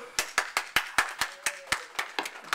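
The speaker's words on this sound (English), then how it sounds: "Wow, that's an extended applause." Audience at a Toastmasters-style business meeting clapping, though only sparse, evenly spaced individual claps are heard, moderately loud in a room, with no talk.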